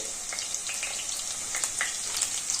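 Chana dal, chopped green chillies and curry leaves fry in hot oil, giving a steady close sizzle with scattered crackling pops throughout and no talk.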